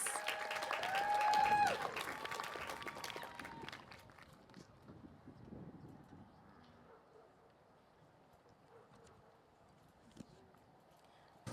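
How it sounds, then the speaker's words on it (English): An audience applauds at the College of Alameda 2025 graduation ceremony, a burst of clapping that swells over the first seconds and then thins out to scattered claps and quiet. "let's applaud our College of Alameda president, President Melanie Dixon"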